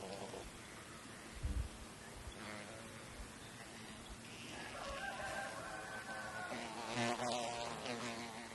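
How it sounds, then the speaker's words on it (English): A wasp buzzes and drones around the roof of an old stone house that has a nest inside, the faint whine rising and falling over steady outdoor background noise, with no talking. "that bloody wasp was totally brazen"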